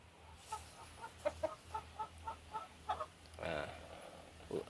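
A pama chicken clucks in a series of short, evenly spaced calls, fairly quiet against a low background hum, ending in a longer squawk.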